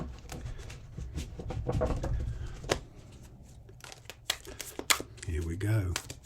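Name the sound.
shuffling a deck of tarot cards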